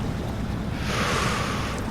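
Heavy truck wading through deep water in SnowRunner, Loadster 1700 "Rockbiter" mod, a steady loud rushing, sloshing wash over a low engine rumble, swelling in the middle and continuous throughout.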